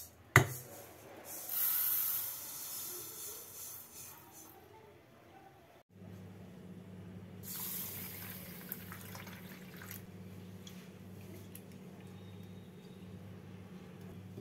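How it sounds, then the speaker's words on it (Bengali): Fried mung dal, cooled, is rinsed under running water: a steady wash of splashing and dripping, with a low hum joining partway through and a louder burst of rushing water near the middle. "ডালটাকে নামিয়ে নিয়ে ঠান্ডা করে ধুয়ে নেব।"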